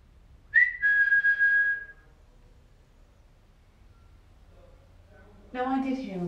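A short whistle rings out inside a reputedly haunted old building, one sustained clear tone followed by quiet, then a voice speaks toward the end.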